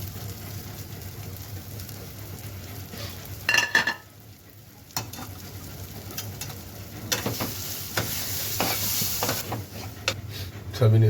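Whole spices for chole masala roasting in a pan, a steady low sizzle with intermittent scraping and stirring clatter, moderately close, no voices.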